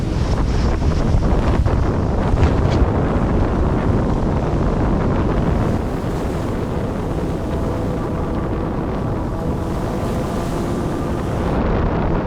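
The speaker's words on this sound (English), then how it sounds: "The sheer pressure from the wind and waves even made a triple reefed mainsail overpowering" Loud, constant roar of storm-force wind buffeting the microphone over the rush of following waves at sea aboard a sailboat, unbroken throughout with no voices.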